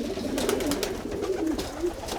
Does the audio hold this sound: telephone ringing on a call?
no